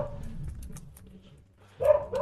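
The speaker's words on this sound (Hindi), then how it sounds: "कुत्ते जरूर भौंक रहे हैं भाई" Several dogs barking at night near an old haveli, a few scattered barks early on under low rumble, then a louder burst of barking toward the end.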